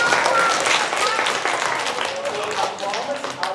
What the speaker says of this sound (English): let's give Austin a round of applause